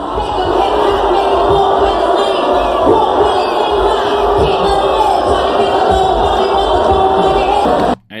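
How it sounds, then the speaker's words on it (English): Large concert crowd at Webster Hall in New York City roaring steadily with loud, continuous jeering and shouting, a dense wall of voices that holds throughout before cutting off at the end. "She was brutally booed off stage at Webster Hall in New York City."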